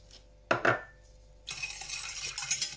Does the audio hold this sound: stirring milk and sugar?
yes